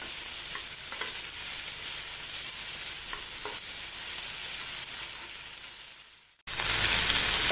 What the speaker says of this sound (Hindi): एबे आम कटा परिवा पकेबा एवं भल भाव मिक्स करदेव